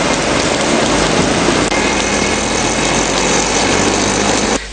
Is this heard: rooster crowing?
no